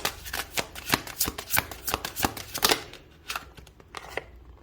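A tarot deck is shuffled by hand before a single card is drawn: quick, crisp rhythmic riffles and slaps up close, slowing into a few sparser flicks at the end.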